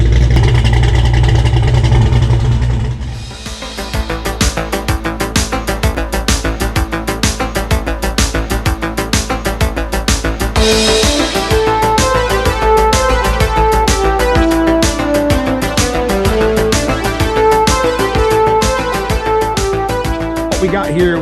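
A 1990 Ford Mustang Fox body with a 393 stroker (351 Windsor stroked), 600 lift cam and Flowmaster exhaust starts up after a short lead-in, then holds a loud, steady lumpy idle with revs rising midway, close and continuous.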